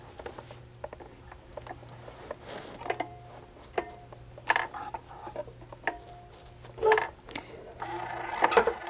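A sewing machine stitches a zigzag seam on a zipper pencil case, a low steady hum broken by scattered mechanical clicks and short louder whirs.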